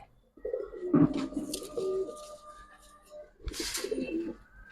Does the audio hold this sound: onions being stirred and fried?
no